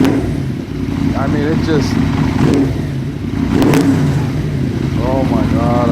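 A Yamaha VMAX 1200 engine with a COPS mod revs loud and close, throttle blips rising and falling over a steady idle rumble, while someone talks over it.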